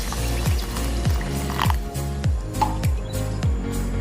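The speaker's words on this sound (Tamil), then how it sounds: "தண்ணி ஊற்றிக்கலாம். நான் வந்து 1/2 டம்ளர் எடுத்துருக்கிறேன்." Water poured into a mixer grinder jar holding rice for appam batter, with a wet, sloshing, gurgling flow that pulses in a steady rhythm, close and fairly loud.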